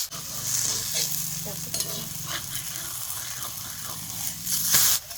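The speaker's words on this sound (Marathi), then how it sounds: "असं कुरकुरी चांगली पोळी भाजून घ्या" Thin flatbread roasting until crisp on a hot griddle with a soft sizzle and occasional scraping and stirring noises, fairly quiet and without talk.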